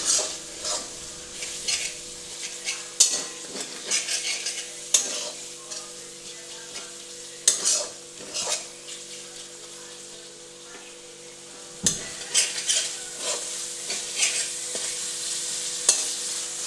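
Turmeric, Kashmiri chilli and cumin powder paste thinned with water frying in a pan for Bengali chicken kosha, with a steady close sizzle broken by repeated scraping stir strokes of a spoon against the pan.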